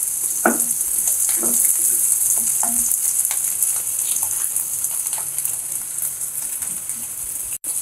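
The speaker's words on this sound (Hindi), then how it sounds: "आलू भी थोड़ा सा फ्राई हो गया है" Potatoes and onions frying together in an oil-filled pan for chaat, a loud continuous sizzle with scattered spatula scrapes and knocks against the pan throughout.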